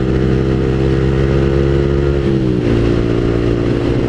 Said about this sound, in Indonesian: Pasti udah dioprek-oprek tuh motor.